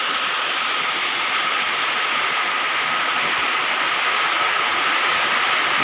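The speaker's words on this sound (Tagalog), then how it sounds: "malakas na hangin, tapos magsabay yung malalaking alon" Strong typhoon wind roars in a dense, constant wash of noise, with big waves blending into the loud, unbroken rush.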